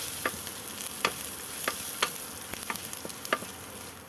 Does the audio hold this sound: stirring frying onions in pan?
yes